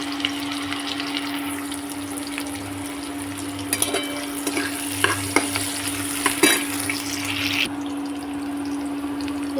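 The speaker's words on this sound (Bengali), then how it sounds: "কাঁচা পেঁয়াজগুলো দিয়ে দিলাম ভাজার জন্য।" Raw onions drop into hot oil with dried red chillies for Rajasthani lal maas, frying with a continuous close hiss, with stirring scrapes and clinks through the middle and a steady low hum underneath.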